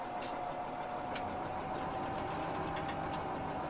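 A John Deere tractor engine in Farming Simulator 17 drones steadily on the road, a close, constant mechanical hum with a faint whine and no pauses or talk.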